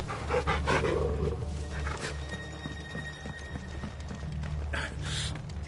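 Horses' hooves clip-clop in Final Fantasy XVI, a steady rhythmic clatter at moderate volume, joined by a panting animal and occasional brighter bursts.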